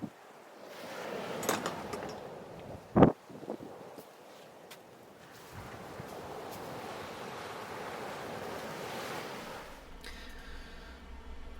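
Ocean waves wash onto a beach in a low, steady rush with wind buffeting the microphone, plus a brief sharp knock near the start and a faint hum toward the end.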